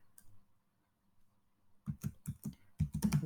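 Keys tapped on a computer keyboard while entering an HTML heading in a JSP file, a short burst of clicks after a brief pause, then a quicker run of close, crisp keystrokes.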